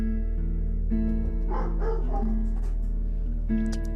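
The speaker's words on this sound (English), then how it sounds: "As my dog barks." A pet dog barks a few times nearby over a steady background hum, the barks coming in a short cluster and then once more near the end.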